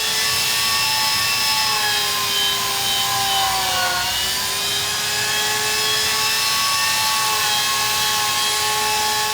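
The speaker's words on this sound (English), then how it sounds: "The first thing then I pick up would be the burrs. It's basically a conical special bit that goes onto a die grinder" A die grinder with a conical burr bit carving ice gives a loud, steady high-pitched whine that dips briefly midway as the bit bites, running alone throughout.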